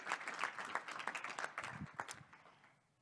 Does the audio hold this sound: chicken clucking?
no